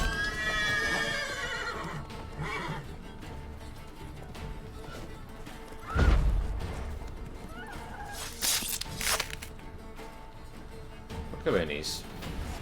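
Roach the horse in The Witcher 3 whinnies several times amid game sounds and footfalls, with someone talking over the scene.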